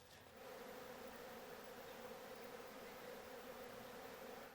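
Bees from caught swarms in old wooden hive boxes give a steady, dense buzzing hum that runs unbroken throughout, close and even in loudness, with no talking.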